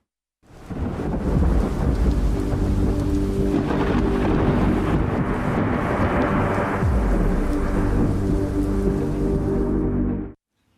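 Heavy rain pours steadily during a thunderstorm in Gujarat, with deep rolling thunder rumbling underneath, loud and continuous for about ten seconds before cutting off abruptly.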